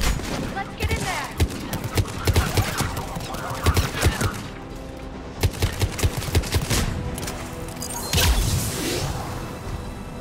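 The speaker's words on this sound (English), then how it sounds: "Shepard, Cerberus troops at checkpoint. Attempting to kill Krogan. Need assistance. I see the checkpoint. They're under fire." Dense gunfire rages around a checkpoint in Mass Effect 3, with rapid bursts and heavy shots crackling for the full stretch, occasional booms mixed in, and voices talking over the battle.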